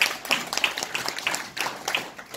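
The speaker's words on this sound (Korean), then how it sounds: "박수로 맞이해 주십시오." Audience at a real-estate forum seminar applauding to welcome a speaker to the stage: a moderate, fairly sparse patter of hand claps with distinct individual claps, steady for a couple of seconds in an indoor hall.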